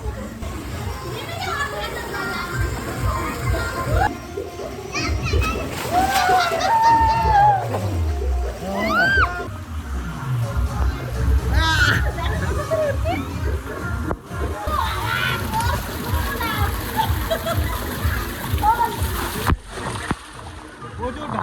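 People splash in cold sea water at Digha beach, with repeated close splashes and sloshing under constant excited talk and children's voices throughout.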